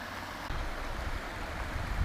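Steady broadband rush of water at Manao Yak waterfall in Khao Yai, Korat, a constant close wash with no voices.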